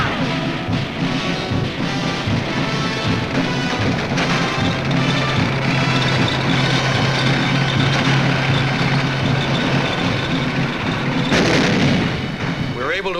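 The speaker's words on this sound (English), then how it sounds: "Our tanks come ashore and grind inland." Tanks coming ashore and grinding inland on the beaches at Iwo Jima in 1945, a dense, continuous rumble of heavy engines and tracks mixed with booming artillery fire, loud and sustained throughout under a battlefield din.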